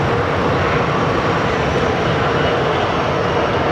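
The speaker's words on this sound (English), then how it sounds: "WestJet 737." A WestJet Boeing 737 airliner at Phoenix Sky Harbor gives a steady, loud broadband jet roar that holds evenly throughout with no voices.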